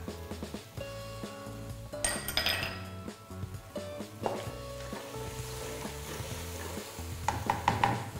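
Fried grouper is tossed and stir-fried in a wok, with soft sizzling under frequent metallic clinks and scrapes of the utensil against the pan, close and fairly quiet.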